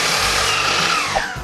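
A power saw cuts wood for a DIY sliding barn door in a short, steady whining buzz that drops slightly in pitch near the end, close and alone.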